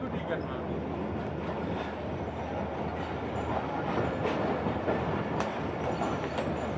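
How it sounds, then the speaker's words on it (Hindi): A Jaffar Express passenger train at a station platform produces a steady, heavy rolling rumble with metallic clatter that holds throughout, moderately loud, with faint voices mixed into the noise. "जाफ़र एक्सप्रेस जो कि 4 पर अनाउंस होनी थी वो 9 नंबर पर आई है"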